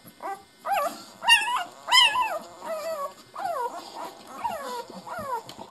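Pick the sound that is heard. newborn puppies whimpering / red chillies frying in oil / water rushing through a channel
newborn puppies whimpering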